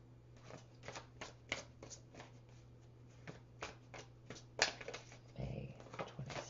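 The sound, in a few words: shuffling oracle cards before a Romance Angels card pull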